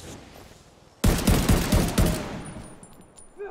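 A sudden loud burst of rapid automatic gunfire from The Division 2 starts after a quiet moment, then sustains in several close, heavy shots before tailing off.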